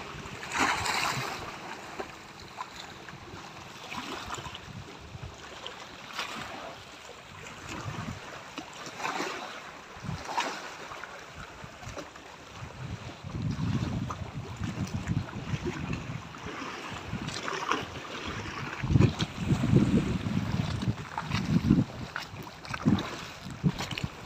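Sea waves at a beach wash in and out nearby, with soft rushing surges swelling louder toward the end, accompanied by light wind noise on the microphone and no speech.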